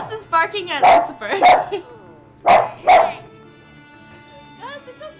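A pet dog barks repeatedly at a cat appearing in the Kingdom Hearts: Birth By Sleep video game, loud and close in two bursts of sharp barks with whines between, followed by a person speaking.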